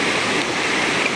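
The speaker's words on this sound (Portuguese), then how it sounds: "a cachoeira tá bem forte" A waterfall running strong and high after heavy, ongoing rain roars as a steady, loud, dense wash of water noise, close and unbroken throughout.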